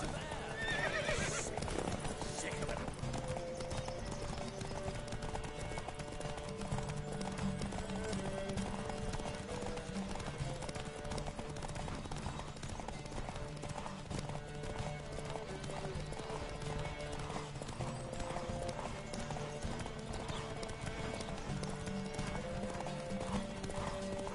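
Rapid hoofbeats of horses galloping in The Witcher 3, with repeated loud neighs and whinnies over a dense, busy mix of game sound.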